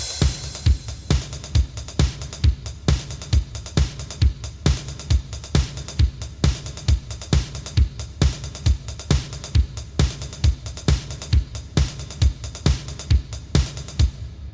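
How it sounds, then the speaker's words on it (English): Dance-pop drum beat from the second Toradora opening: four-on-the-floor kick with snare on two and four and a syncopated hi-hat pattern, looping steadily and evenly throughout with no fills. "4 on the floor still, snare on 2 and 4 still, but we have this interesting hi-hat rhythm"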